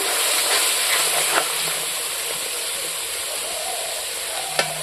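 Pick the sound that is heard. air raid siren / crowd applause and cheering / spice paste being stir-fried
spice paste being stir-fried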